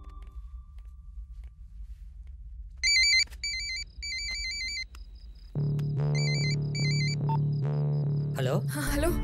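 A phone rings with bursts of repeated electronic ringtone beeps in two spaced groups over a tense film-scene background, with music swelling beneath and a brief noisy clatter at the end.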